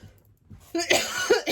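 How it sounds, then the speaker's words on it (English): A few harsh coughs close up, in quick bursts after a quiet start, with no talking. "there I go with the coughing again"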